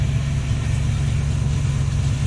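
A Luhrs 28 boat engine idles low and rough, its steady deep throb sagging as the throttle comes down until it nearly stalls, close and continuous with no voices.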